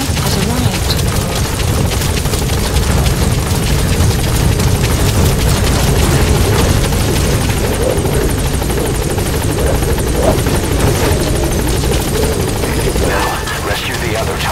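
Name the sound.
helicopter arriving in video game Metal Gear Solid V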